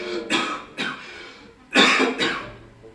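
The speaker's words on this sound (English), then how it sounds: "How long have you had that cough?" A reader voices a character's coughing fit in a spoken rendition of a gothic tale: four harsh, throaty coughs in two pairs, close and loud, separated by short pauses.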